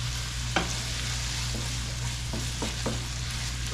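A stir fry sizzles steadily in a pan with minced garlic as a utensil scrapes and stirs through it, a constant close frying hiss broken by a few short scraping knocks.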